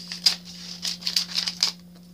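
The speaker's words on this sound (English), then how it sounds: "I should just go right to my handy scissors that y'all sent me" Several quick crisp snips from handy scissors slicing open a mailed package, a short irregular run of close, bright cuts over a faint steady hum.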